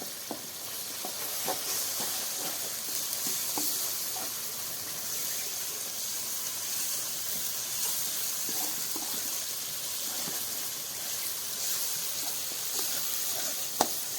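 Onion gravy for rajma simmering gently on low heat in a pan: a soft, steady sizzle and hiss with faint occasional ticks and pops throughout.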